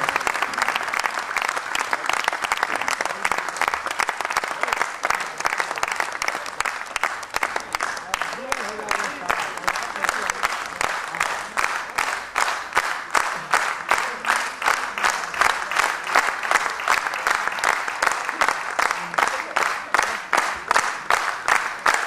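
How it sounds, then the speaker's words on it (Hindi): Sustained audience applause fills a hall at an award ceremony, dense steady clapping lasting throughout with faint crowd murmur beneath. "तालियां बजाते रहे उस आदमी के लिए"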